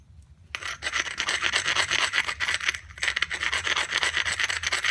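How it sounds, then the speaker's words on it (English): A flint edge being ground during flintknapping, a steady close rasping scrape with rapid strokes that runs almost continuously after a brief quiet start, with only short pauses. "We better grind this one."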